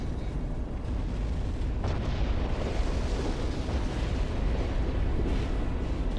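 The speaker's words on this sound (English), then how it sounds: "the rotary Gatling-style grenade cannons can do a lot of damage" Rotary Gatling-style grenade cannons in Armored Core For Answer produce a steady, dense roar of overlapping explosions that rumbles without pause for several seconds.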